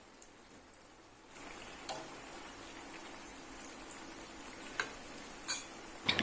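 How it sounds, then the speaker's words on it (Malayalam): Drumstick cutlets deep frying in oil over a medium flame, a steady low sizzle with occasional sharp ticks and pops, moderately quiet and without talk. "അപ്പോൾ നമുക്ക് മെല്ലെ മെല്ലെ നമുക്ക് ഓരോ കട്ട്ലറ്റ് വറുത്തെടുക്കാം"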